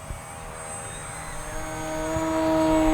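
An Arrows Husky Ultimate RC airplane flies on a 6S battery, its electric motor giving a whining buzz with a steady pitch. The whine grows gradually louder as the plane nears, with no voices.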